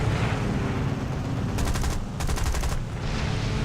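Rapid automatic gunfire from anti-aircraft guns in the War Thunder video game, loud dense bursts of shots in two quick strings over a constant roar of game noise.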